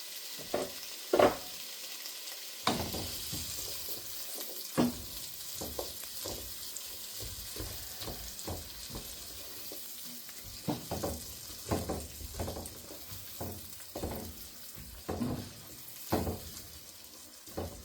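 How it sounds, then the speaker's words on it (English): Onions and peppers fry in melted butter for soul-food collard greens, a soft steady sizzle broken by scattered clinks and scrapes of stirring, fairly quiet and close with no voices. "We're going to add the onions and peppers, and we're going to let them go for about 3 minutes."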